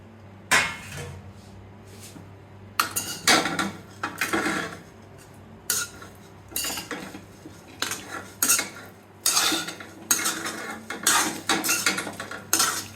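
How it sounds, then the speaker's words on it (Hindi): Spoon scraping and clattering against a metal cooking pot as a masala mixture is stirred, with sharp metallic bursts coming in an irregular series of repeated strokes, loud and close, with no talk. "दोबारा से मिक्स कर रही हूँ मैं इसको, कभी ऐसा होता मसाला नीचे चले जाता है"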